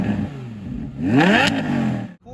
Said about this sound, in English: the oval exhaust, which, by the way, sound phenomenal thanks to the naturally aspirated V10 engine.